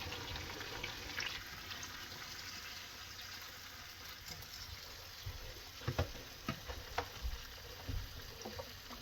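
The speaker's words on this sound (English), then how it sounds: "he added some hot water to his vegetable, to his seasoning, and then he's just gonna pour it all over the pork." Hot water mixed with vegetables and seasoning poured over pork for a Jamaican pot roast, giving a steady quiet sizzle with a few sharp splashy pops toward the end, no talking.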